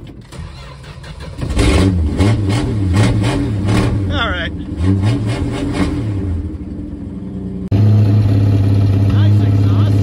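A 1974 Plymouth Duster's slant six engine cranks, catches and revs up loudly in rising and falling bursts, then settles into a rough, uneven run, struggling to idle; a voice speaks briefly.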